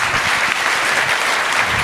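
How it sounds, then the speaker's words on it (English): An audience at an investment summit claps steadily and densely for a panel, a loud, continuous wash of applause throughout with no talking. "Please join me to give panelists a round of applause."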